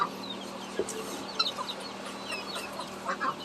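Chickens cluck and call softly at feeding time, scattered bursts of short clucks over a steady low background hum, with no talk.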